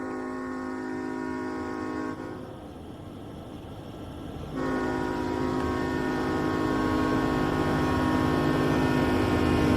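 An SD70ACe locomotive's multi-tone horn in a train simulator, loud and sustained, dropping out briefly then sounding again, over the rumble of a heavy freight train.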